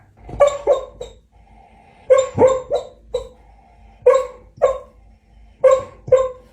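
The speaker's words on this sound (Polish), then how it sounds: "Kiedy widzimy, że nasz pies śpi i wydaje z siebie dziwne dźwięki, na przykład takie." A sleeping dog gives soft, muffled yips and low woofs in short clustered bursts, with brief pauses between each group.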